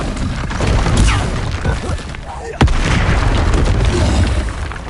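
A Bombarda spell explosion in the video game Hogwarts Legacy: a loud, sharp blast hits past the midpoint amid ongoing rumbling combat noise and smaller impacts.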